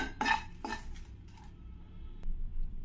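Dried red chillies dry-roasted in a pan without oil, heard as a few sharp metallic scrapes and clinks of a spatula against the pan, fairly close, followed by a faint tap.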